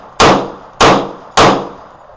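Three sharp, loud reports from a Magnum Research 1911 G10 pistol fired at an outdoor range, evenly spaced about half a second apart, each with a brief decaying ring.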